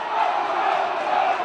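A dense crowd roars and cheers at a Donald Trump rally, a steady, loud wash of many voices holding without a break.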